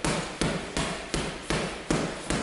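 Punches thud into a boxing bag in an even rhythm, about seven sharp hits spaced roughly a third of a second apart, close by, with no talking.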